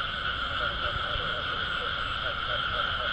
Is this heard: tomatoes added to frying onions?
no